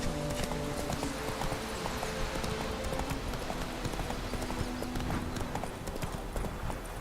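Horse hooves clip-clop steadily in the Witcher 3 video game, a continuous even trot with game ambience in the background and no talking.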